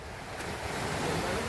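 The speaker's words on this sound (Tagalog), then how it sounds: "Ay, tabing dagat to." Sea waves washing onto the shore at the seaside, a steady broadband surf roar with wind noise buffeting the microphone, rising slightly toward the end.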